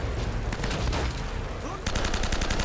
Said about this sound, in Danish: Der er nogen flere skud.